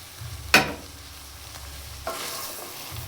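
Chopped onion is stirred into a pan of chickpea chola: a sharp scrape of the spoon, a soft low rumble, then a rising sizzle and crackle that carries on quietly to the end.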